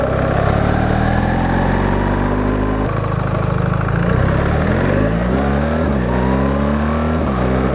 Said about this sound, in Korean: 와 방금 변속 그거였어 거의 스포츠카였어